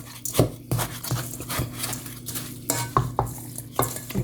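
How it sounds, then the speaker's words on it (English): Dry cinnamon powder and brown sugar being stirred together in a bowl for ginger beer, giving a series of close scraping strokes and light clinks of a utensil in an irregular rhythm, with a steady low hum underneath. "Now I'm going to mix these ingredients together."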